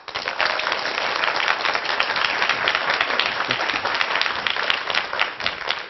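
An auditorium audience at a televised Korean lecture applauds to welcome the first speaker, a dense, sustained wash of many hands clapping at even loudness for several seconds, with no talking over it.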